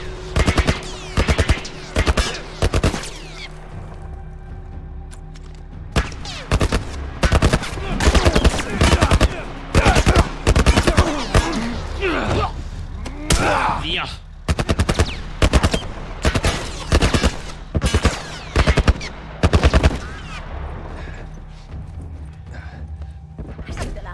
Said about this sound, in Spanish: ¡Están disparando! Parece una torreta militar.